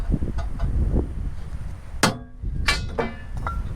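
Hammer blows on a steel punch while reusing old metal for a DIY solar panel ground mount: a few sharp, ringing metallic strikes, the strongest around the middle of the clip, against steady background noise.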